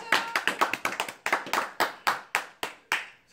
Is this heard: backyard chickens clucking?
no